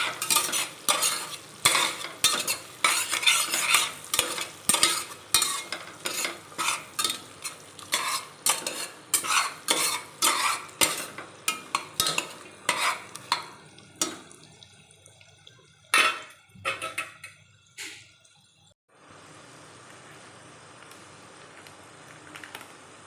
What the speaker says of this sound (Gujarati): હવે આપણે તેને બરાબર હલાવી લઈશું અને મસાલાને સારી રીતે કૂક થવા દઈશું